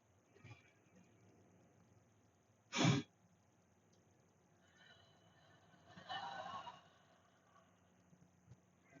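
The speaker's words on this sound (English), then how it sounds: "exhale completely, inhale as far as you can. Inhale a little more, and then exhale slow" Breathing exercise built on a deep inhale and slow exhale, heard as one short, strong breath near the start, then a longer, softer exhale later against a quiet room.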